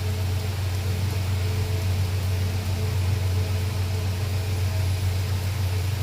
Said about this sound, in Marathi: आता गरमागरम आपला चहा उकळत आहे.